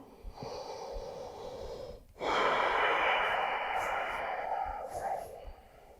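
Deep, slow breathing from a person holding downward facing dog in a yoga session, a soft airy rush that swells suddenly partway through and is sustained as a long, steady exhale-like hiss.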